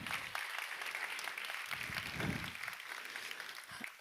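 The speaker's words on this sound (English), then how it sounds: "can we do a round of applause for Poonam and for the summit?" A large audience at a women's investment summit applauds steadily, a dense wash of clapping that carries on without a break.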